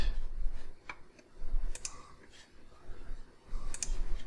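A few computer keyboard key presses in Blender, close and crisp, isolated clicks spaced apart over a quiet room tone.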